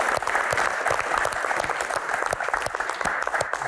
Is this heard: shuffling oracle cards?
no